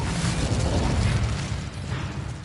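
A Bombarda explosive spell goes off in Hogwarts Legacy, a sustained loud, rumbling blast with heavy low-end boom lasting the whole moment, no voices over it.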